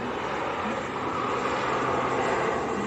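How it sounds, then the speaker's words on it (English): An Aer Lingus ATR turboprop airliner rolls for takeoff at Manchester airport, a loud, steady broadband engine roar that holds at full power throughout. "Angus ATR rolling, Tom."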